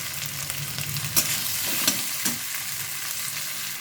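Chopped tomato sizzles in hot salted oil while being stirred, with a dense frying hiss broken by a few sharp scrapes of the spoon against the pan.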